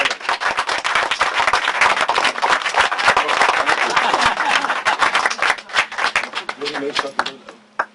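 A crowd claps at an outdoor ceremony for the visiting Armenian ambassador at the Fresno State genocide monument, dense steady applause that thins out toward the end as a low tone rises beneath it.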